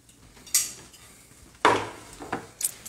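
Cutlery cutting into a well-done cooked egg on a plate, with a few distinct clinks and scrapes of metal against the dish: a bright tap, a longer scrape, then lighter taps, close and otherwise quiet.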